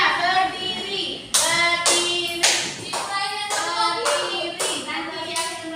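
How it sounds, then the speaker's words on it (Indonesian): A classroom of students performs a rhythmic spirit clap, sharp group claps landing in a steady pattern with children's voices chanting over them. "Semangat kita tepuk semangat dulu ayo."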